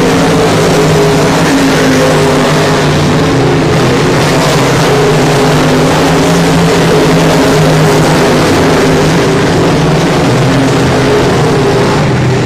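Race cars lapping at I-37 Speedway during a regular race program. Loud, continuous engine roar with sustained revving holds at a steady level throughout.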